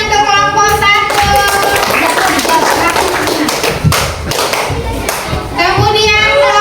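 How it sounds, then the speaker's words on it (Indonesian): Children in a classroom give rapid, uneven clapping for a group presenting a lesson on Surah Al-Ma'un, mixed with thumps and young voices chattering underneath. "tepuk tangan untuk kelompok 1."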